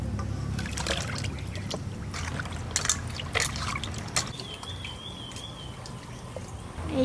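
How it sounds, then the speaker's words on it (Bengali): Koi fish are washed again with clean water in a village kitchen, with continuous splashing, trickling and sloshing of water and handling of the fish. The sound is close and fairly quiet, and no one speaks. "আবার পরিষ্কার জল দিয়ে আবার ধোবো।"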